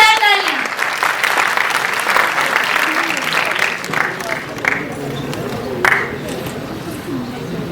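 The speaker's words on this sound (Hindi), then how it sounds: "एक बार जोरदार तालियां।" An audience at a school Hindi literature society event applauds the chief guest, and the clapping blends with crowd chatter and a voice speaking through it.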